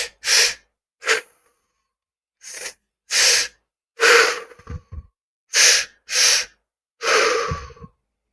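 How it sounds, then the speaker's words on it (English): Deep breathing during a guided relaxation exercise: about ten strong, airy inhales and exhales come close to the mic, separated by short silences, with no speech. "Tell yourself you are safe and just keep breathing."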